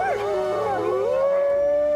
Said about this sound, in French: Qui n'a pas vu des images de loups hurler à la lune?